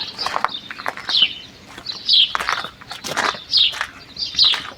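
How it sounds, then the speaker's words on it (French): Birds chirp in short, repeated bursts outdoors, near and fairly clear, over the crunch of footsteps on gravel. "Et puis d'entendre les bruits des oiseaux."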